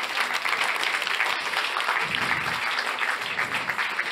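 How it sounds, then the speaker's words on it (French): Applause for CSR award nominees at an insurance talent ceremony, a sustained, fairly loud round of clapping from the audience throughout, with faint murmuring beneath. "on les applaudit"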